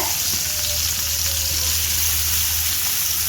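Finely chopped onions fry with fennel, cinnamon and cloves for a mushroom gravy, giving a loud, continuous sizzle with a steady hiss and no pauses.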